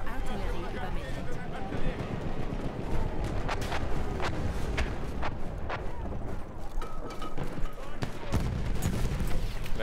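Artillery and gunfire in the World War I shooter game Battlefield 1, a cold winter battlefield; repeated sharp reports and booms over a dense, continuous din of combat, with someone talking over it.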